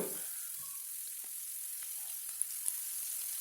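Onions frying in oil after mustard seeds have spluttered, cooked for a masala brinjal curry; a steady close sizzle with a few faint pops and crackles, no talking.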